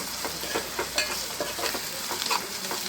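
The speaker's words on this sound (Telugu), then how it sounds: "అల్లం పేస్ట్ వేసుకుంటున్నాను అల్లం పేస్ట్ పచ్చివాసన పోయేంత వరకు వేగనివ్వాలి" Ginger paste fries in a pan for an omelette curry, a steady close sizzle broken by regular scraping stirs, with no voices.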